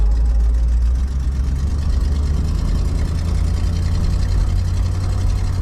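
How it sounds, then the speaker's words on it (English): A car engine idles steadily with a small exhaust leak from a donut gasket or manifold area, a continuous deep rumble heard up close without interruption. "I hear a little exhaust leak over there, but not bad."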